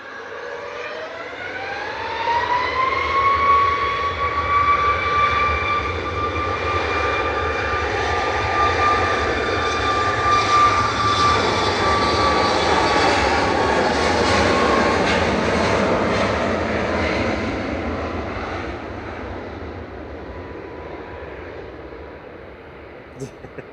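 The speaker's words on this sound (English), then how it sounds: "Here we go, heading back to Dalaman on the south coast of Turkey. This is flight 3505 for Sun Express and Max 8 TCSML." A Sun Express Boeing 737 Max 8 jet departs Manchester Airport with a swelling engine roar and a rising whine that climbs in pitch, stays loud and near for a long stretch, then slowly fades.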